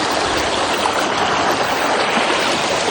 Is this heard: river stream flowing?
yes